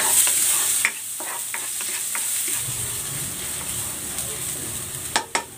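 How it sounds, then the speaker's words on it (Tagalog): Garlic sautéing in hot oil, a bright continuous sizzle with scattered taps of a spatula in the pan, rising with a few louder clanks of stirring near the end, close and without talk. "Magigisa na ako ng bawang."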